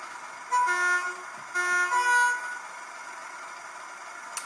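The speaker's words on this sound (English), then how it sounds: "So the sound is actually not too bad in this locomotive with the stock speaker" A Hornby Class 31 model locomotive fitted with a TTS sound decoder plays through its stock speaker: two tonal horn toots, then a steady engine hum continues alone.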